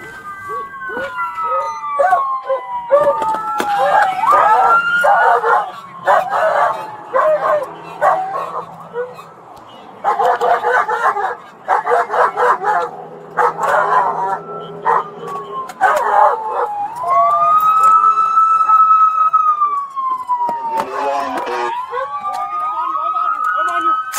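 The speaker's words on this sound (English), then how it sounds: "Sonny, get your dog!" A dog barks repeatedly in sharp bursts while police sirens wail and sweep up and down, with voices shouting over the loud, chaotic scene of a highway chase standoff.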